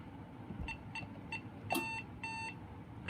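A Safe House 49-485 alarm panel chirps after an entry-exit door trips the system: a series of quiet, evenly spaced electronic beeps with one brief louder burst, over low background hiss.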